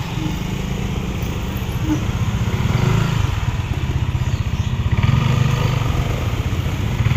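Motorcycle engines idle and rumble steadily at a charity group ride, a loud continuous low throb that swells slightly in places, with no talk over it.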